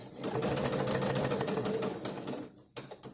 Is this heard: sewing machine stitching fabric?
yes